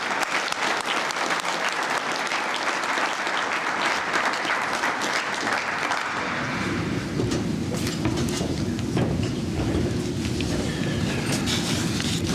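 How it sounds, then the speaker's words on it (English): At a volunteer rugby gala awards ceremony, an audience claps for an award recipient, sustained and loud, with a dense, even roar of many hands that thickens partway through and carries on without talk. "So give it a round of applause for Brendan."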